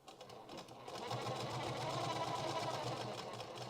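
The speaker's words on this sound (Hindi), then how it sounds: "यहाँ पर अब हम ऊपर पे सिलाई चला देंगे" A sewing machine runs a finishing topstitch along a seam over corded piping, a steady rapid mechanical whir that starts softly and then holds at an even, close, loud level without speech.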